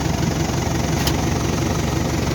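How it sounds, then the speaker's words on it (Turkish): A New Holland TD100D tractor's diesel engine idles at 0°C with a steady low chugging throb, close and constant throughout. "Traktör çalışıyor"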